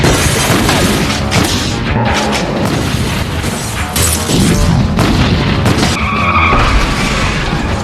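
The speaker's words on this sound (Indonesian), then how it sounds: "Kyle langsung tancap gas dalam-dalam buat menghindari" Loud, chaotic car chase sounds: revving engines, tire skids and booming impacts crowd together without a break, with no clear speech.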